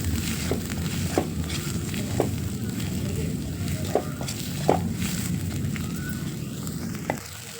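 Masala paste fries in oil in a pan over a wood-fired chulha while being stirred. Sharp spoon scrapes and clicks recur every second or so over a steady crackling sizzle, heard close and alone.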